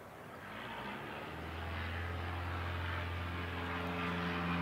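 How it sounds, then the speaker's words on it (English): A light aircraft taking off at the Canterbury Aero Club, its engine drone steadily growing louder and rising in pitch, heard from nearby over outdoor ambience. "And we've got takeoff."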